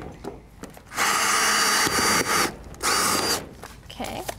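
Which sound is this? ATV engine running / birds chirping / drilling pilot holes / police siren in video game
drilling pilot holes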